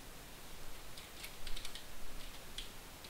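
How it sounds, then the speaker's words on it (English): Quiet, irregular clicking of keys being typed on a computer keyboard, a short burst of taps with no voices. "Now, begin typing."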